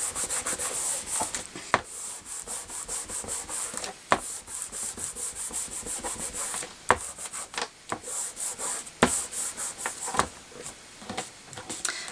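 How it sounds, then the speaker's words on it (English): Scrapbook paper is burnished onto a book cover with repeated close, dry rubbing strokes, interrupted by occasional sharp taps, steady and fairly quiet. "So I'll just give those a burnish down."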